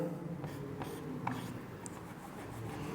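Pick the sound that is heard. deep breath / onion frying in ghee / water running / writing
writing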